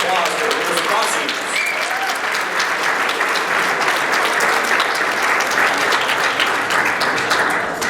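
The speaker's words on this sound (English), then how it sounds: "Please join me in a warm round of applause for the women's lacrosse seniors" Audience applause for the senior women's lacrosse players at a senior student-athlete luncheon, a dense, steady roar of many hands clapping that holds evenly for the full stretch without a break.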